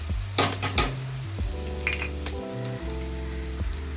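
Kashmiri chilli powder and other spices hit hot oil in a pan for baingan bharta, bringing a steady sizzle and frying hiss under a low mechanical hum, with two sharp clatters of utensils near the start.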